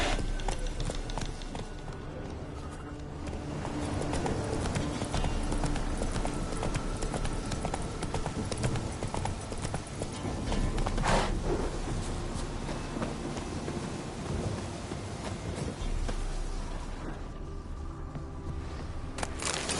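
Roach the horse gallops in The Witcher 3, a steady, fast clip-clop of hooves running continuously and fairly loud, with ambient game sound beneath.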